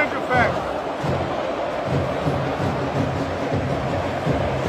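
Flamengo supporters celebrating and chanting in the Maracanã stadium during a football match, a dense, continuous roar of crowd voices and singing filling the whole stretch.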